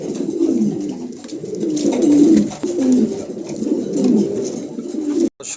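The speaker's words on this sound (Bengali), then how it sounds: "খুবই চমৎকার একজোড়া কবুতর মার্শাল্লাহ দেখার মতন" A pair of black pigeons coo in low, rolling bursts that repeat steadily and sound close, continuing almost without a break, then stop abruptly near the end.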